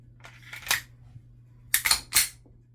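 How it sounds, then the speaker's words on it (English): A Glock pistol slide being put back onto the frame, giving a few close, crisp metallic clicks and sliding clacks in two short clusters, with quiet pauses between and no speech. "Slide back on."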